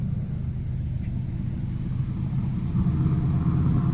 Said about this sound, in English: Little JDM car drove by.